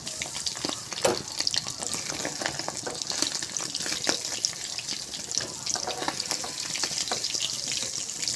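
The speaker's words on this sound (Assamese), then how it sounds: "এয়া মোৰ কণীখিনি ভাজা হৈ গৈছে" Eggs frying in a pan on a home kitchen stove give off a steady, close sizzle with scattered sharp crackles and pops, over a running water-like hiss.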